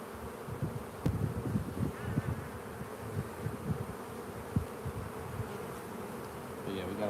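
Honeybees buzz steadily during a hive inspection, a close, dense insect drone with individual bees swelling and fading near the ear and occasional soft knocks.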